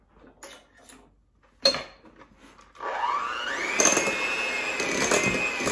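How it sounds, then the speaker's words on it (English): An electric hand mixer starts up partway through and whirs steadily, beating a stick of softened butter in a bowl for strawberry cake batter, after a few quiet kitchen clatters. "I'm gonna mix that together before I add my other ingredients"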